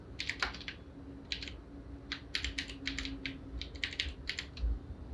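Typing on a computer keyboard while entering text in Adobe Illustrator, with scattered bursts of quick, close keystrokes separated by short pauses over a faint steady hum.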